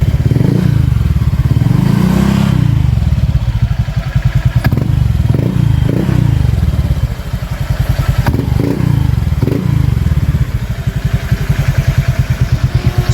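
Honda Click 125i scooter fitted with a Racing Hero exhaust pipe, loud and close with a steady throbbing idle broken by several short revs and blips, no voices.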